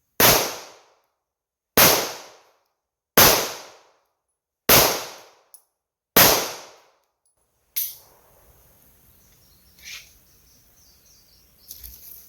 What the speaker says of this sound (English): these rounds are really kicking